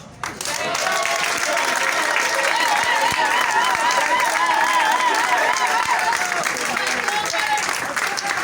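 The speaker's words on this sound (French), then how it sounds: "Je ne sens pas tellement ces applaudissements." Applause swells through a room of ministry agents and officials at a digital affairs meeting, a loud continuous clapping with crowd murmur and scattered voices throughout.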